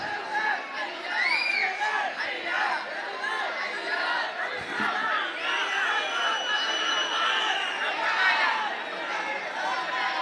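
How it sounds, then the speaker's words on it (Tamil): Crowd at a political speech by an agricultural leader clamouring and shouting continuously, a dense mass of overlapping voices and chatter at steady loudness, with no single speaker standing out. "எதுக்கு கூச்சல் போடுறீங்க?"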